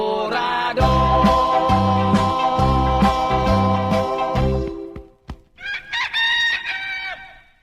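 A rooster crows loudly and close by, its long drawn-out call standing out near the end after a stretch of dense, layered sound.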